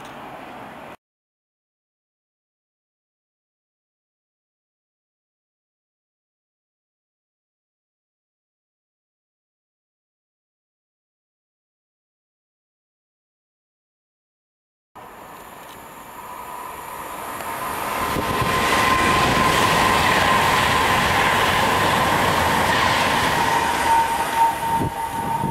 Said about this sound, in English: just the wind and Pendolino.